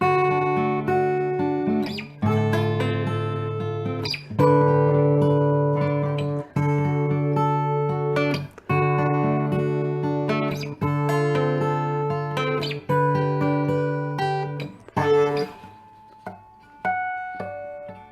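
Clean guitar strummed in sustained chords with ringing bell-like harmonic notes, a steady rhythm of strokes, close and fairly loud, no voices.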